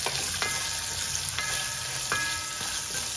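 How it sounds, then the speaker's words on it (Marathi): Cashews and ginger slices sizzle in hot ghee with asafoetida during a tempering for traditional salty pongal, a steady close frying hiss with occasional stirring clinks, no voices. "ह्याच्यामध्ये काजू आणि हे आल्याचे काप. हे छान परतून घेऊया."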